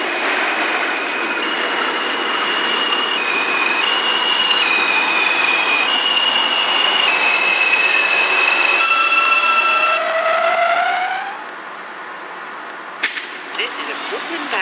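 An R160A subway train running in the OpenBVE train simulator game, with rising and falling electric motor whines over a steady rolling rumble. The motor pitch sweeps down as the train slows, then gives way to faint clicks near the end.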